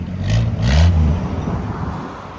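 Two quick throttle blips from a 1952 International L-100's 220 inline six breathing through dual glass pack mufflers, loud and near, then easing back to a steady low idle.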